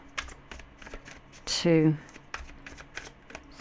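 Tarot cards are shuffled close by in quick, rhythmic riffles and taps, with a brief louder flurry midway, while a person talks over the soft card sounds.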